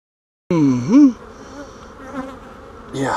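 Honeybees buzz steadily and close around an open beehive during an inspection, a dense droning hum with rising and falling pitches as individual bees fly past near the listener.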